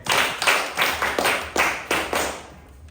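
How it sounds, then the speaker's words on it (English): A classroom of students claps for a classmate after she answers a question in a lesson on light, several short bursts of close, rhythmic clapping that trail off toward the end. "Clap for her."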